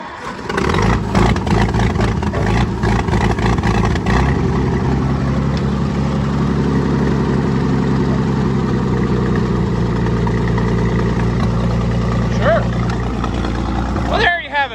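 An old Oliver 70 tractor engine runs and idles loudly, with sputtering and revving at the start before settling into a steady low rumble.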